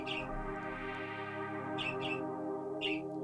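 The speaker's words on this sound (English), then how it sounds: "the birds aren't in the back room, they're in my room" Bird chirps come in a few short bursts around the middle and end, fairly clear over a steady low electrical hum.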